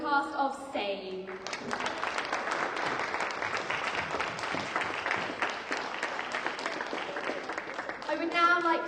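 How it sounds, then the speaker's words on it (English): A theatre audience claps for the cast in a steady, dense burst of applause lasting several seconds, with a voice speaking briefly at the start and again as the clapping fades. "can I please hear a massive round of applause for the cast of Save?"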